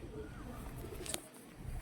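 Madras long-distance flying pigeons coo softly in a short, faint call over a low background hum, with no clear voices over it.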